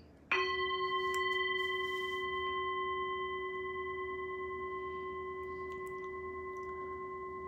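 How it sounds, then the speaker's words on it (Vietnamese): One bright bell strike rings out with a clear, sustained metallic tone that slowly fades over several seconds, alone in a quiet room. "Hãy cùng nhau khởi lên những tiếng chuông trăng rằm Himalaya"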